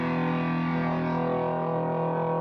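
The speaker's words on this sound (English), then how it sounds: "a distortion pedal which overloads the signal" A sustained electric guitar tone, heavily overdriven by a distortion pedal, rings out with a thick, buzzing, gritty sustain and no other sounds.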